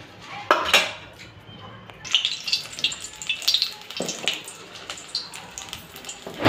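A spoon stirs cornflour, soy sauce and red chilli powder in a bowl, giving irregular clinks and scraping taps against the bowl, some sharp and close, over a quiet background.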